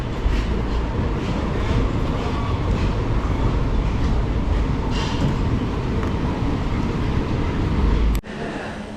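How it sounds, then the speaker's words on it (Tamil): A train arriving at Thrissur railway station rumbles steadily with heavy low-frequency roar and rattling carriages, loud and close, with a sharp clunk near the end as the noise drops. "வண்டி கிளம்பி மூணாவது பிளாட்ஃபாரம் வந்திருக்கு திருச்சூர் ரயில் நிலையம்"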